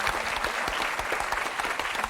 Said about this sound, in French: Ben, le public va vous applaudir.